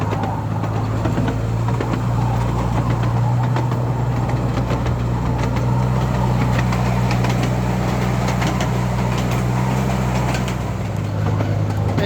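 An amusement park train at Pleasurewood Hills rumbles along steadily through woods with a low engine drone and rattling, clattering wheels throughout, no voices.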